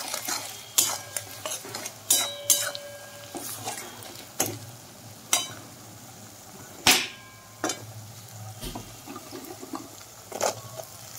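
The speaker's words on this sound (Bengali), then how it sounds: "আবারও কষিয়ে নিচ্ছি" Banana flower curry with spices being sautéed in a pan: repeated sharp scrapes and knocks of a spatula over a low sizzle, coming in uneven strokes.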